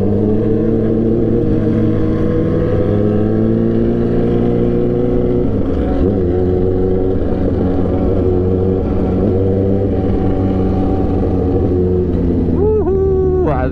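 A Yamaha R15 motorcycle engine drones steadily while riding, loud and close, with a brief dip in revs around the middle and a rising rev near the end.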